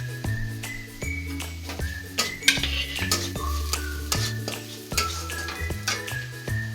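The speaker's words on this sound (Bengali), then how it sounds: "লঙ্কাটাকে একটু ভেজে নিতে হবে।" Chili powder and turmeric powder frying in oil in a pan, with a steady sizzle and repeated metal spatula clinks and scrapes. Steady background tones run underneath throughout.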